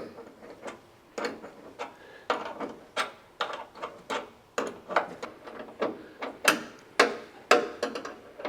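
A ratchet works the bench seat bolts of a 1960s Chevrolet pickup, sounding as a steady run of close, sharp clicking bursts repeating roughly twice a second with no talk.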